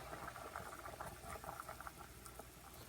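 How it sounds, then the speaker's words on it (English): Steady bubbling and pattering of boiling water as koftas for Kashmiri rista are dropped in one by one, close by, with small irregular splashes and no voices. "I will now drop the koftas in one by one"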